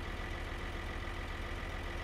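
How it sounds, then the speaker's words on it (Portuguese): A slow tractor engine in Farming Simulator chugs at a low, steady idle, a continuous rumble with even rhythmic pulses and no voices. "Meu Deus, que trator lento, bebê."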